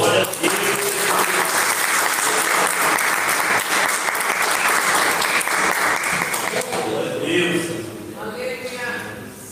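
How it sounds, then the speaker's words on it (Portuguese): A church congregation claps in worship, a loud, continuous wave of applause that fades toward the end as a voice begins speaking over the quieting room. "as palmas ao Deus"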